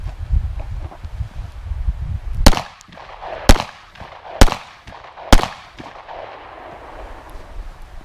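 Four sharp 9mm gunshots, Federal 115 grain jacketed hollow point rounds fired into soda jugs outdoors, spaced roughly a second apart, each a loud crack with a short echo.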